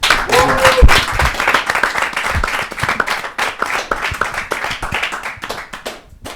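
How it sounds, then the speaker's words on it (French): A studio audience claps to welcome two football coaches from the CRL10 association onto a French sports show, dense close applause running the full length with voices talking and calling out over it. "On les applaudit."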